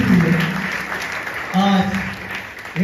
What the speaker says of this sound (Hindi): यीशु के लिए जोरदार तालियां।